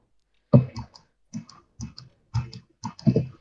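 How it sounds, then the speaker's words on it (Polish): Quiet computer keyboard typing and mouse clicks during a Bedwars game come in small bursts of taps, spaced out with short pauses, nearby in an otherwise silent room. "Ale słyszę twoją klawiaturę i myszkę"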